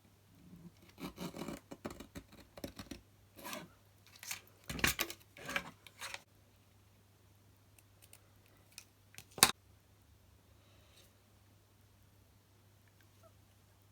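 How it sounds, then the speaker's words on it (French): Scattered snips and rasping cuts come in short bursts, close and quiet, with a sharper single snip near the end before falling silent. "Je vais le découper en faisant attention de ne pas tacher mon papier."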